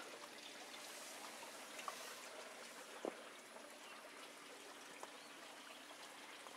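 Soft, steady trickle of water flowing into an aquaponics grow bed, faint and continuous, with a couple of small drips or splashes standing out.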